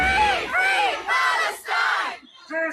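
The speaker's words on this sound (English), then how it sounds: "you can hear the jeers and the shouting of the crowd" Crowd of protesters in a mall around a Santa display chanting and shouting in loud, rhythmic bursts, several voices together in repeated phrases with short gaps between.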